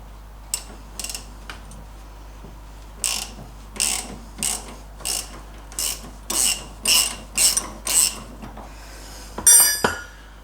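A ratchet clicks in short repeated bursts while loosening a 9/16 pinch bolt on an MGB front suspension, a dozen rhythmic clattering strokes close by, ending with a metallic clink.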